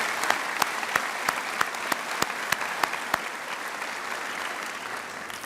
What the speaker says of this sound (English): Would you join me in a round of applause to recognize the hard work and accomplishments of the class of 2024?